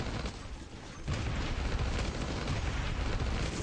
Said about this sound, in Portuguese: a torreta atirou nele